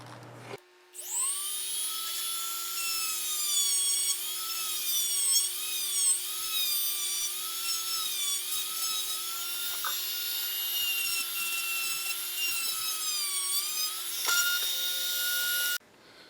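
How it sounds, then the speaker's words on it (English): A miniature Dremel sanding disc grinds against a wooden fishing lure, a high, wavering whine that holds steady for around fifteen seconds, starting and stopping abruptly, loud and close with no talk. "I have a miniature sanding disc here."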